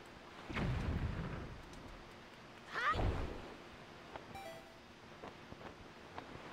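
Video game Wind Waker plays quiet rain with two faint rumbles of thunder, the second brighter and crackling, over a low, steady background hiss.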